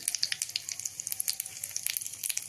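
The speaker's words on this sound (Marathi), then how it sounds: "तेल तापलेलं आहे, मोहरी टाकू आता। मोहरी टाकली की थोडे जिरे टाकून घेऊ।" Mustard seeds and cumin hitting hot oil in a pan, a dense crackle of sharp pops and sizzling spatter, close and lively, with no talk.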